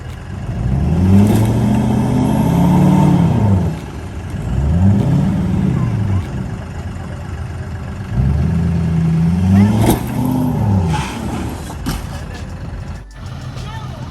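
A tractor engine stuck in mud revs hard in repeated bursts, each swell rising and dropping, with pauses of idle between pushes; loud and close, with voices faintly under it.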